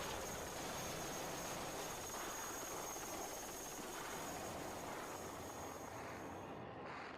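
Helicopters drone continuously in archival news footage of the Vietnam evacuation, a steady rotor and engine roar with a faint whine above it that fades out at the end.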